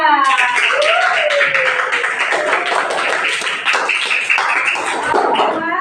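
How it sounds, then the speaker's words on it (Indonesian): Classmates clap for group 2 after a group presentation in a classroom, a brisk burst of many hands with voices chattering over it near the start, continuing steadily throughout. "kita beri tepuk tangan untuk kelompok 2"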